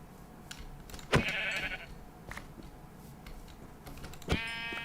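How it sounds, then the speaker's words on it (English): Sheep bleating in the modded Minecraft pack GregTech New Horizons, two short game-sound bleats about three seconds apart over low background noise and faint clicks. "We're just gonna kill all of the sheep."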